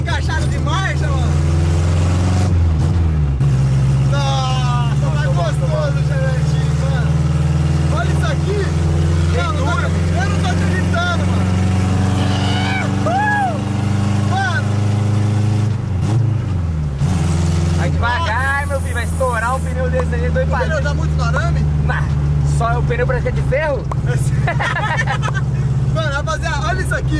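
A Chevrolet Chevette's engine hums and revs steadily from inside the car, with pitch rising and dropping through gear changes, while people talk excitedly over it throughout.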